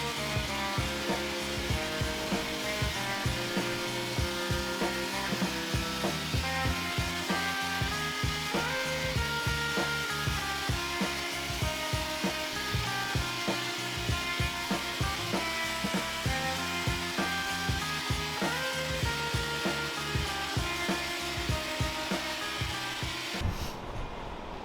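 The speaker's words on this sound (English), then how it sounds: "If you're not cleaning your garage with a leaf blower, what are you doing in life?" Leaf blower running steadily while cleaning out a garage with a fan also on, a loud continuous roar with shifting tones and bumps of debris throughout.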